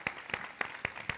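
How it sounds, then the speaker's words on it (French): Sparse, slow clapping at a talk on entrepreneurship, five distinct claps spaced evenly, quiet and close, with no crowd around them. "on s'applaudit."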